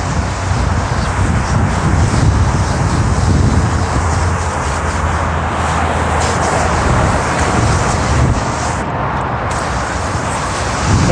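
A Nomad mini pressure washer sprays water across a car panel, giving a steady, loud broadband hiss with a low motor rumble underneath that runs without a break, close to the microphone.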